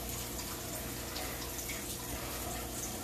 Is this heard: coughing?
no